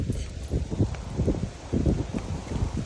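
Wind blowing across the microphone outdoors during a walk with a dog, a steady rumbling gust with rustling bursts, fairly close and moderately loud with no talking.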